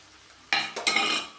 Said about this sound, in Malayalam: ഇതൊന്ന് ഇളക്കി യോജിപ്പിക്കാം നന്നായിട്ടൊന്ന് ഇളക്കി പിടിപ്പിക്കാം